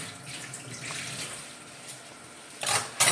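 Tap water running into a cooking pot for boiling pasta, a soft continuous splashing rush that swells louder in two bursts near the end.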